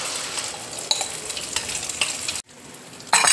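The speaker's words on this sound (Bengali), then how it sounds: "এবার ডিমের ব্যাটারটা দেখো তেলের মধ্যে" Egg batter sizzles loudly in hot oil in a wok, with a steady crackling hiss, a brief pause, and then a fresh burst of frying as more goes into the pan.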